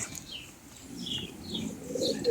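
Pigeons from a racing pigeon club coming in to land, wings flapping in short soft bursts with a faint coo, fairly quiet and outdoors.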